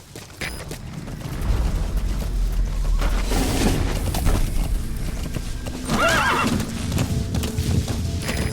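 A horse whinnies over steady clip-clopping hooves, with a burst of distant gunfire-like pops and booms mixed into the busy game soundscape.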